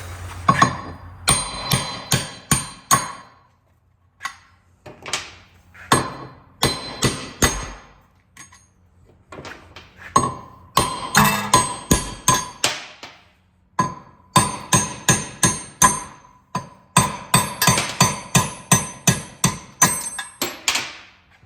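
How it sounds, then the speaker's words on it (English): Loud metallic hammer blows strike in rapid bursts and clusters, driving wheel studs out of a 2015-2021 Subaru WRX STI hub during wheel bearing removal, ringing sharply with short pauses between volleys. "We can pop directly now the studs out. So here I'm going to take a big hammer."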